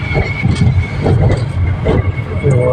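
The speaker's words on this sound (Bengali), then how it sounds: "চলছে মেট্রো রেলের।" A metro rail train runs along an elevated line in Kolkata, a loud continuous low rumble with rhythmic surges and a steady whine above it, while a person talks over the noise.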